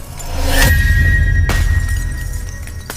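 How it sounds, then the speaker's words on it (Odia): Sharp glassy crashes of a mirror cracking and shattering in a horror scene, with two or three bright impacts over a deep rumbling bed and a thin ringing tone lingering between hits. "ଆଇନା ମଝିରୁ ଫାଟୁଥିଲା"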